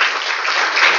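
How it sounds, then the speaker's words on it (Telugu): A church congregation claps loudly for their bishop at a church consecration, a brief burst of dense, steady applause. "అందరూ కూడా మన బిషప్ గారికి చప్పట్లు కొడుతూ గట్టిగా"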